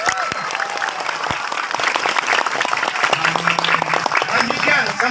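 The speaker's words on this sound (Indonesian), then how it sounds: "Tepuk tangan." A religious gathering breaks into applause, a close, lively burst of many clapping hands with scattered voices calling out among them, growing fuller toward the end.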